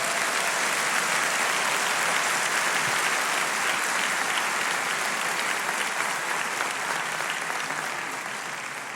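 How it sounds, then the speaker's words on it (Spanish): A church congregation applauds God with loud, dense, sustained clapping from a large crowd that fades slightly at the end. "Dale un aplauso grande a Dios"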